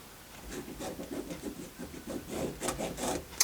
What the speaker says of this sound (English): you need to draw a line on the back of all of the red squares